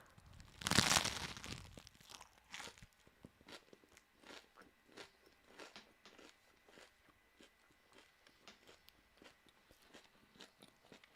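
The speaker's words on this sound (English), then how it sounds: "Listen to this crunch." Crunchy bites into a potato sandwich: one loud close crunch at the start, then a long run of quieter crackly chewing and crinkling sounds in an irregular rhythm.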